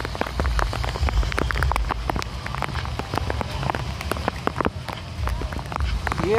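Heavy stormy rain pours steadily in Ajmer Sharif, with dense drops pattering on surfaces close by and a low rushing roar throughout, as people talk faintly.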